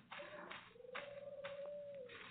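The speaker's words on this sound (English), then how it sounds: "I can't see to feed the pigeons" Pigeons coo softly in a low, wavering hum that rises and falls over a couple of seconds, faint and somewhat muffled, with no voices.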